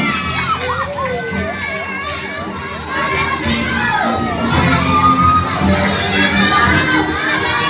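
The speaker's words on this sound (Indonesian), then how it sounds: "Beri tepuk tangan." A crowd of schoolchildren shouts and cheers loudly and steadily at a school anti-bullying event, with excited voices overlapping throughout and a swell of noise partway through.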